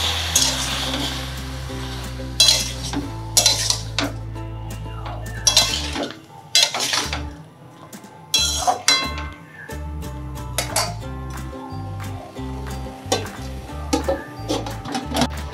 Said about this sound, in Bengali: লবণ দেওয়ার পর নেড়ে চেড়ে আমি ঢাকনা চাপা দিয়ে দেব।